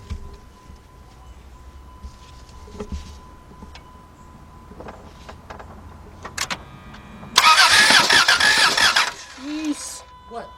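The 3.3 engine of a 2003 Dodge Grand Caravan that will not start cranks loudly during a compression test, a close burst of about two seconds after quieter shop sounds, with people talking around it.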